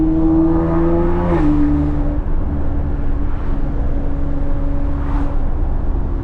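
Catless, tuned BMW X3M engine droning loud and close while driving at night with the windows down, revs holding steady with a brief shift-like dip, road and wind rush underneath.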